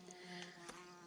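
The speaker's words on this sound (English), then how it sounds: "The bee is back." A bee buzzing close by indoors at an off-grid homestead in central Portugal, a short, faint, wavering drone with the whine rising and falling as it moves about, no voices.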